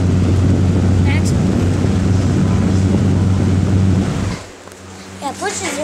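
Holmes HABF20 box fan running steadily with a loud low hum and airy rush, cutting off abruptly near the end, after which a voice speaks over quieter room sound.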